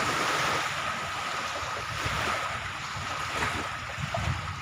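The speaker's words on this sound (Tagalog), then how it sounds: "medyo maalon. Maalon ng konti." Choppy water sloshes and splashes continuously, mixed with wind buffeting and a steady low engine-like drone.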